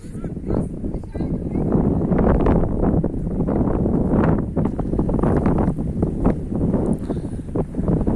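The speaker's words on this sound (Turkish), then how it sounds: "Fena halde rüzgar var." Strong wind buffeting the microphone in heavy, continuous gusts while flying a DJI Mini 2 drone at Yolçatı, Silivri, loud and rough throughout with brief swells and lulls.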